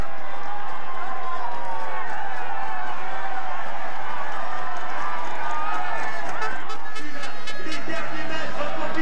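A large roadside crowd cheers and roars continuously as Vincenzo Nibali makes the final climb to a summit finish of a Tour de France mountain stage in 2014, a dense, loud, sustained wall of shouting.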